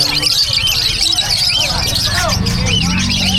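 Many small birds chirp and tweet at a pet market in Bocaue, a dense overlapping chatter under steady crowd noise and nearby talking throughout.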